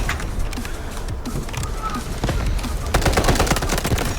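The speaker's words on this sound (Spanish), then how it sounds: "yo disparo abajo y le doy" Sustained automatic gunfire from the shooter game Delta Force, with dense overlapping shots growing heavier toward the end, close and loud over game ambience.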